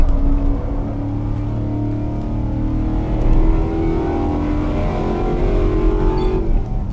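A Spec P71 car engine in the Assetto Corsa racing game revs steadily up to redline in second gear without upshifting, a loud, continuous, rising drone that holds at the limiter throughout.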